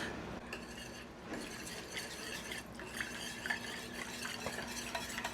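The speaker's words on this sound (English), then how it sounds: "I'm gonna use this whisk because this is gonna help to speed up this process" A whisk stirs shredded Mexican-blend cheese into milk in a pot for a bacon cheeseburger potato casserole, a steady soft scraping and swishing close by, with a few faint clinks and no talk.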